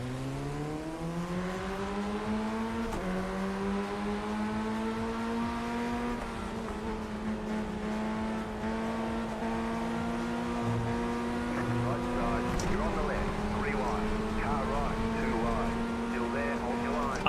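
Formula Ford race cars in a racing video game, engines droning and rising in pitch through gear changes as a pack runs close together, steady and continuous with a faint voice underneath.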